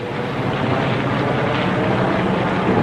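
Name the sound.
Japanese carrier planes taking off from flight decks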